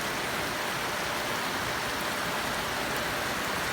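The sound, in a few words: heavy rain falling on a tin roof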